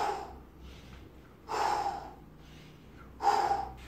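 Heavy breathing during slow push-ups comes as three forceful breaths, each a sharp puff followed by a quieter trailing exhale, spaced evenly and close to the listener.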